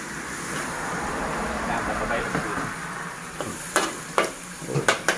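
Frog meat stir-frying in a wok over high flame, a steady loud sizzle and rustle with sharp scraping clacks of a spatula toward the end, while someone talks over it.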